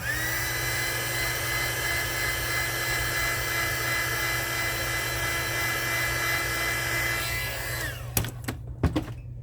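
A heat gun blows with a steady whirring hum and airy rush for several seconds, then shuts off, followed by a couple of sharp clicks.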